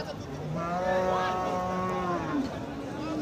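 Cattle, crossbred bulls at a livestock market, mooing in a long, loud, drawn-out low call over a constant crowd murmur of the busy market.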